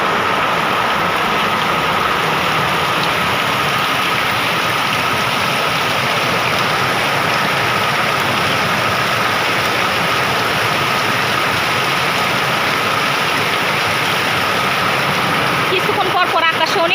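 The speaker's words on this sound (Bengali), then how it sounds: "এই দেখেন বৃষ্টি পড়তেছে" Continuous dense hiss of rain falling steadily, loud and even throughout, with a faint hum running beneath it.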